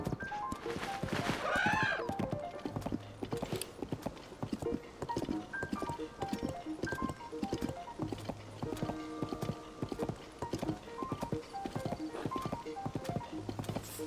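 Horse hooves clip-clopping in Zelda: Tears of the Kingdom, a steady galloping rhythm of thuds running the whole time, with faint background music and a brief voice near the start.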